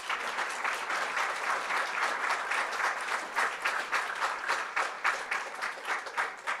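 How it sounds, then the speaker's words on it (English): Audience applause for two debaters at a live debate event in Tennessee, a steady dense wash of many hands clapping throughout, moderately loud and fairly even, with no talk over it. "both of them, a round of applause, please."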